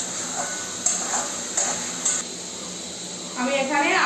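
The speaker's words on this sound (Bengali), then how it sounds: "সেই চিকেনগুলোকে এর মধ্যে দিয়ে কষিয়ে নেব" Chicken pieces fry in spiced oil for a Bengali red chicken curry, a soft hiss and sizzle with a few sharper spurts and stirs, growing louder near the end, and a voice talks alongside.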